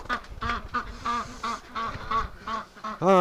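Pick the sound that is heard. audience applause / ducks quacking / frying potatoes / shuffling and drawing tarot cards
ducks quacking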